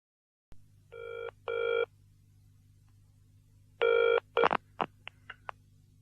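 A phone rings twice in quick bursts against a low hum, pauses, then rings once more before a few clicks and short tones.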